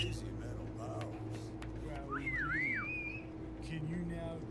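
A melodic whistle rises and falls in a wavering tune within the video game Sim Settlements 2, moderately faint beneath steady ambient hum and a speaking voice.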